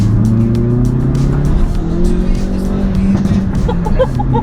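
A 300bhp front-wheel-drive Hyundai i30N Performance driven flat out, recorded on board: loud, steady engine roar that rises and shifts through the gears continuously, with faint tyre noise.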